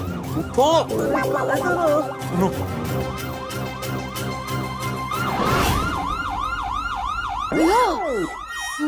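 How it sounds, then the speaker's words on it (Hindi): A police siren wails in repeated rising and falling sweeps, loud and close, with other siren tones and voices in the background throughout. "पुलिस सायरन की आवाज है।"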